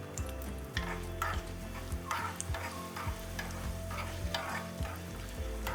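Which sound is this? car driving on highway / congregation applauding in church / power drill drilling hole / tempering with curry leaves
tempering with curry leaves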